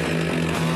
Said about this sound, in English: once the chainsaw came into the woods, because we could really cut the trees fast